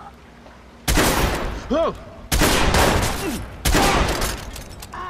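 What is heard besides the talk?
gunfire in Watch Dogs video game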